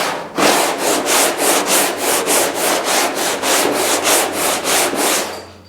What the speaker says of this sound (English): And it's sanding really easy right now.